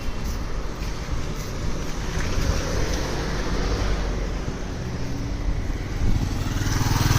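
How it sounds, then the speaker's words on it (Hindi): Motorcycle engine droning as it rides along a city street in Makkah, steady and fairly loud, over general traffic noise. "ये भाई बाइकर बड़े बेहतरीन अपना सूट लेके जा रहा है हिफाजत के साथ"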